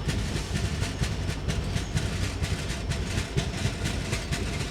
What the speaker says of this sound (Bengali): দেখো বন্ধুরা, এই আমাদের ট্রেন ছুটছে